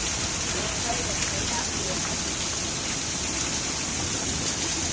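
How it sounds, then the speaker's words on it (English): Heavy rain pours down steadily during a thunderstorm, a dense, even hiss of water drumming on surfaces close by. It holds at a constant loudness throughout with no pauses, and no thunder or talk stands out above it. "I've never seen it rain so hard."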